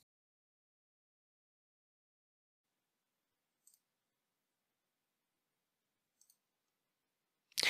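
Two faint, isolated computer mouse clicks spaced a few seconds apart in near silence, followed by a brief louder knock at the very end.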